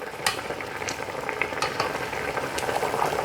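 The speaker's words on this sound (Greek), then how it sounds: "βράζουμε και ταυτόχρονα ξαφρίζουμε" Bitter orange syrup for a spoon sweet boils steadily in a pot, a dense continuous bubbling sizzle with scattered sharper pops, close and alone without voices.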